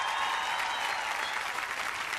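An audience in a comedy contest show hall gives a contestant a steady burst of dense applause, many hands clapping evenly throughout with no talk over it.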